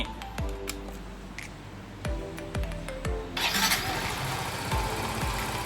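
Yamaha Grand Filano scooter engine stuck at high idle revs, a steady mid-pitched hum with repeated mechanical ticks and clicks, with a brighter hiss joining partway through.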